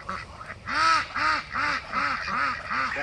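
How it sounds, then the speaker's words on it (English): Several ducks quack in a steady series of loud, nasal calls close by, roughly a few per second, with faint background noise. "that's the one quacking over there"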